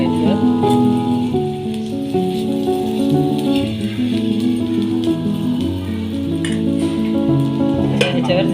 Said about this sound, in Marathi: आता हे जे सारण झालेलं आहे ते मी या तव्यामध्ये घालून